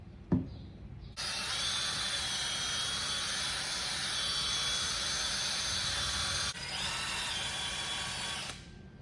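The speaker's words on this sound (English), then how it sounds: "on a foam pad on a drill, and I'm gonna go shine up this powder coat" Power drill spinning a foam polishing pad on a powder-coated RacingHart Type C wheel, starting after a small knock, then a steady high whine for several seconds, briefly dipping and resuming before stopping, close up with no voices.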